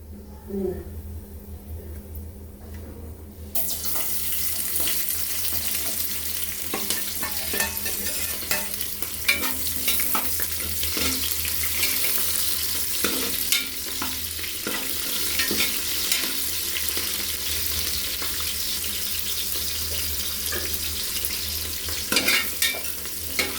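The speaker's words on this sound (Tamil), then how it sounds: "வெங்காயம் ஓரளவுக்கு வதங்கட்டும்." Onions fry in a pan for chicken biryani, a quiet start giving way to a loud, continuous sizzle with frequent stirring scrapes throughout.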